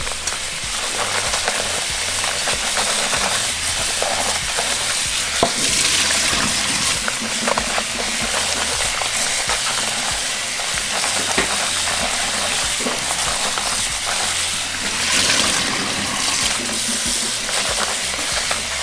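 Steady running water splashes and gushes throughout as chiles are rinsed, with occasional clinks and stirring sounds mixed in, continuous and fairly close.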